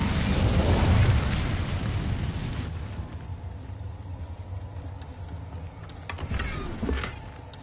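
Incendio fire spell cast in Hogwarts Legacy: a loud roaring burst of flame that dies back into a low rumble, then a few sharp cracks and a smaller flare near the end.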